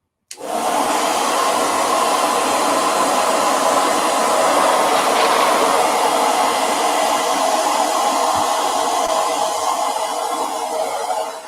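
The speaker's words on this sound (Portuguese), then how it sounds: "Aí vamos de secador." A hair dryer drying a painted canvas blows with a loud, steady roaring hiss that starts suddenly and runs continuously for about eleven seconds.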